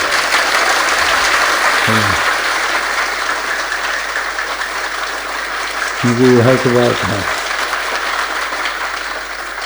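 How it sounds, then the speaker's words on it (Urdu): Audience clapping fills a mehfil gathering, a steady dense patter running throughout at moderate loudness while a voice speaks over it, with brief bursts of other voices. "مارو تالیاں ہیں"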